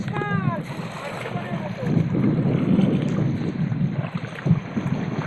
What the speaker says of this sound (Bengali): আর আজকে নদীতে প্রচুর তুফান হচ্ছে বিশাল